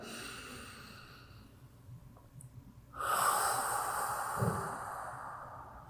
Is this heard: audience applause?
no